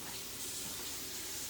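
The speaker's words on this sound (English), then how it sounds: "So you're gonna go rinse your fork" A tap runs water over a fork in a kitchen sink, a brief, steady, soft splashing rush heard close up without speech.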